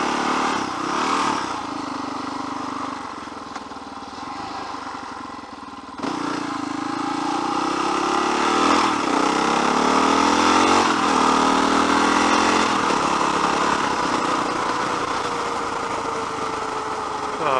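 A BRP motorcycle engine runs while riding, a steady close droning roar whose pitch climbs and sweeps as the throttle opens, with a brief dip before rising again and holding.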